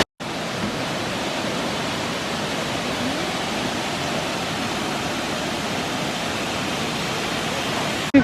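A waterfall seen from a viewpoint in the Poconos, a steady broadband rush of falling water, even and continuous from start to finish at moderate distance with no voices.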